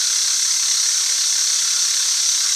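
A machine takes a shallow cut of about five thou on a metal ram with a single-insert cutter holder, giving a steady, close, high-pitched hiss that never lets up.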